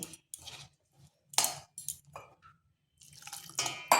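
Small splashes of water are added a little at a time to a gram flour batter for semolina pakoras, heard as sparse, close wet drips and clinks against a bowl with silences between them.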